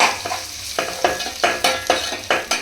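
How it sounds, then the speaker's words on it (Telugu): Onion paste fries in a pan for a village-style fish curry while a spoon stirs it in a regular scraping rhythm, about eight close strokes over a bubbling sizzle. "ఉల్లిగడ్డ పేస్ట్ వేసుకోవాలి పచ్చివాసన పోవడానికి. కలుపుకుందాం."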